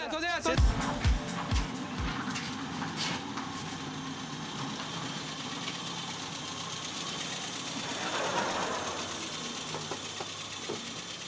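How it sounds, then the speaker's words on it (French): A car engine idles at a garage with a steady, low mechanical hum throughout, while people talk over it. "Arrêtez le moteur."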